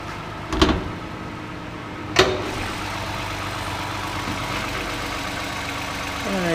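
A 2013 Toyota Highlander's 3.5 liter V6 idles with a smooth, steady low hum heard close up under the open hood, broken by two sharp knocks early on.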